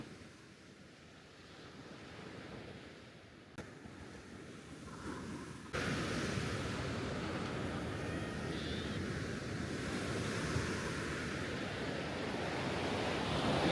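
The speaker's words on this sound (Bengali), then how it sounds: "সমুদ্রে এই গর্জন সত্যিই অসাধারণ।" Ocean waves at Haeundae Beach in Busan roar as a steady broad wash of surf, louder after a jump partway through, with wind buffeting the microphone and no voices.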